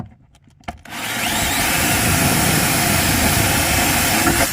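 Bare metal is scraped clean for an amplifier ground inside a 2003–2007 Honda Accord. After a few quiet clicks, a loud, close, continuous rasping begins and holds steady for several seconds.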